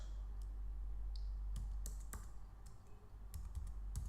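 Keys clatter on a Mac keyboard as a command is typed, a quick irregular run of light clicks over a steady low hum, close and quiet with no voice.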